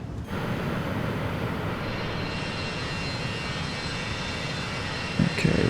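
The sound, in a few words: aircraft external power unit (EPU) running outside the plane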